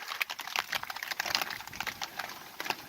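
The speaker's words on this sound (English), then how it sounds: "Now that's some rain." Heavy rain pelting a sailing boat in the Whitsundays, a dense, steady patter of crisp drops with no pauses, close and fairly loud, with no voices over it.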